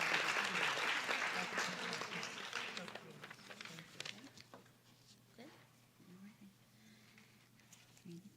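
An audience at a school board meeting applauds calendar art winners and their teachers, dense clapping that starts fairly loud and fades over several seconds, giving way to quiet murmurs and speech.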